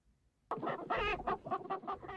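Chicken clucking in a children's audiobook, silent at first, then a burst of loud, close clucks in a quick uneven series, with no speech over it.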